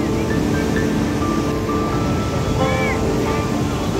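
Steady sea surf rolling onto Puri beach at dawn, a continuous broad wash of breaking waves with wind, faint distant voices and tonal calls over the roar.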